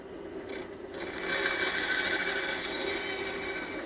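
A bandsaw cuts steadily through wood, a continuous close whirring hum with a gritty rasping edge that grows louder as the blade bites in.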